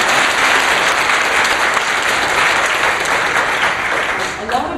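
A crowd at a 2005 Ontario celebration of the Accessibility for Ontarians with Disabilities Act applauds in loud, full, continuous clapping that holds steady and tapers slightly at the end.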